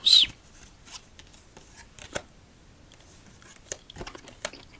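Playing cards shuffled and stacked at the end of a solitaire session, heard as a brief crisp riffle at the start followed by sparse soft taps and shuffling clicks in a quiet room.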